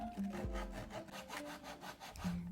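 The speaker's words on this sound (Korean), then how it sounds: "마킹된 부분을 대각으로 잘라줄게요." A small wooden stick for a miniature stair handrail is cut diagonally with a hand saw: quick, close back-and-forth rasping strokes in a steady rhythm, quiet and alone.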